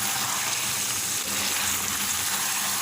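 Pieces of chicken karahi fry in hot oil in a wok, a dense, steady sizzle that fills the background continuously and evenly throughout.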